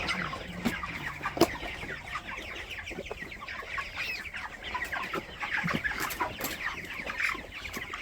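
Chickens cluck continuously in a noisy flock, overlapping short calls close by with scattered sharp knocks and rustling.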